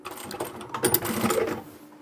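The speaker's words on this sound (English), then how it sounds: "And once you meet up with the other stitching, we can backstitch." A sewing machine runs a short burst of stitching through fabric, backstitching at the end of a seam on a small lined boxy bag, close and steady before trailing off.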